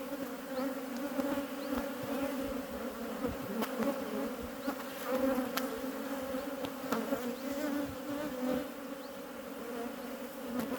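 Bees buzzing steadily around an open hive as brood frames are lifted out during swarm-prevention work, a dense continuous drone at moderate volume with light handling knocks.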